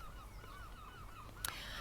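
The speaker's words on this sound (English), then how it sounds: "it's quiet, warm, and the birds are squawking" Birds squawk along Cleveleys seafront on a quiet, warm day: a run of faint, repeated calls at middle distance over soft outdoor ambience, with a brief clatter near the end and no talk.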